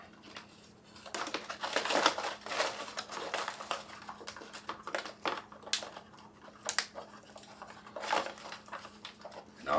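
Crinkling food pouches filled with freeze-dried lasagna and an oxygen absorber, then zipped shut, heard as close, irregular rustles and crackles in bursts.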